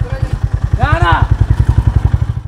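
A motorcycle engine thumps steadily in a fast, even pulse close by on a ride beside the Ganga river, with a brief rising whine partway through.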